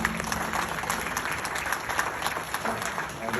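An audience at a Canadian political campaign event breaks into lively applause for a Liberal Party colleague, dense close clapping with scattered sharper claps and some voices mixed in.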